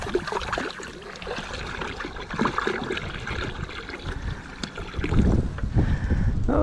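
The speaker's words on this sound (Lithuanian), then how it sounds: "supilsime vandenį." Water is poured into a cauldron over an outdoor campfire, a gurgling splashy trickle that swells louder toward the end, with wind buffeting the microphone throughout.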